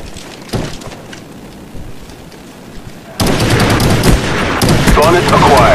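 Video game gunfire: a few isolated shots at first, then a loud, sustained barrage of rapid shots and impacts that fills the second half.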